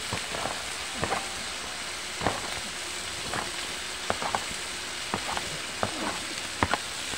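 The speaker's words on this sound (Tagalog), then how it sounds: "Gisa-gisa muna natin guys. Isabay na natin ang sitaw." Potatoes and string beans are sautéed together in a pan, giving a steady rain-like sizzling hiss broken by regular scraping and clinking stirs of a utensil, close and moderately quiet.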